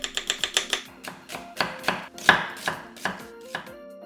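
A knife chops through half an onion, cut into fairly thick strips for a chicken breast salad, giving a quick run of crisp, close board taps that slow into spaced, heavier cuts.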